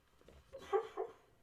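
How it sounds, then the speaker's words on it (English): A couple of short, soft puppy yips or barks, fairly quiet and close, two bursts in quick succession. "Did you hear my puppy?"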